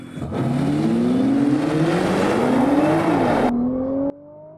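A Nissan GT-R and a BMW M5 Competition accelerate hard in a drag race, engine notes rising steadily through gear changes, loud and close, before the sound cuts to a quieter fading whir.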